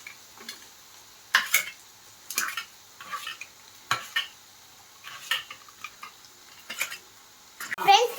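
Ladle scraping and stirring vada curry mixture in a pan, a series of short clinking, scraping strokes at an uneven rhythm, close and moderately loud with quiet gaps between.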